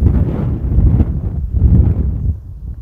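Strong wind buffeting the microphone in continuous heavy rumbling gusts on high ground above the village of Polignac, rising and falling, loud and close, with no other sounds.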